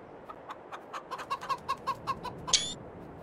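Chickens in the Farm Simulator 22 video game clucking in a steady run of short, evenly spaced calls, close and clear, ending with a brief higher squawk.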